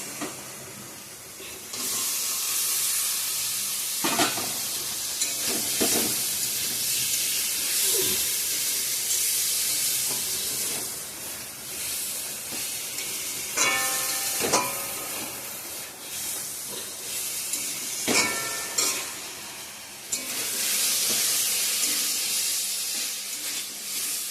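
Potatoes and soybean chunks hit a pan of fried masala, raising a loud, steady sizzle and hiss that runs throughout, broken by a few sharp clinks and scrapes of a utensil against the pan.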